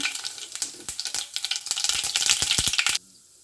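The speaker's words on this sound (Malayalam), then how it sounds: "എണ്ണ ചൂടായി കഴിയുമ്പോൾ ഇതിലേക്ക് കടുക് ഇട്ട് കൊടുക്കുക." Mustard seeds crackle and pop rapidly in hot oil, a dense, sharp sizzling that builds, then stops abruptly.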